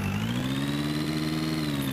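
A Swaraj 963 tractor with a tiller attached, heard in a video game, holds a steady mid-pitched engine drone with a faint whine above it, constant and close, with no talk over it.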